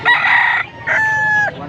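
A young stag gamecock crows loudly and close at a poultry market in Pampanga, two strong crowing calls separated by a short pause.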